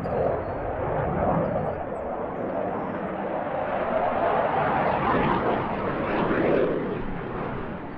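A CF-18 demo jet at a military airshow gives a loud, sustained engine roar that swells and fades slightly as it passes.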